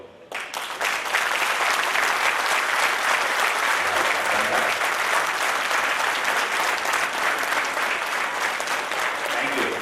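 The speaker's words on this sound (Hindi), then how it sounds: "11 क्लब की ऐसे ताली बजाओगे?" Sustained applause from an audience at a district cabinet installation ceremony, steady and loud throughout after a brief quieter start, with no voices standing out above the clapping.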